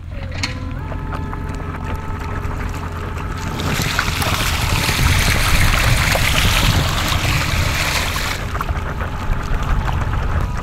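Electric-thruster-driven paddle board with a single propeller, run at full throttle into a headwind, giving a steady close whirring motor drone over rushing water and wind noise that swells louder midway through, with no talking.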